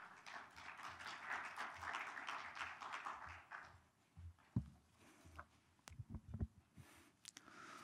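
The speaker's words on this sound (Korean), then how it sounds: "큰 박수 부탁드리겠습니다." At an urban architecture symposium, an audience gives faint, brief applause for 3 to 4 seconds that fades out. Scattered footsteps and clicks follow as a presenter approaches the stage.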